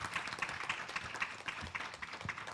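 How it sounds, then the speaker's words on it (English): Audience at a senior citizens' spelling bee competition giving the spellers a round of applause, a steady, fairly faint patter of many hands clapping in a regular rhythm throughout, with no voices over it. "Can we have a round of applause for our spellers so far"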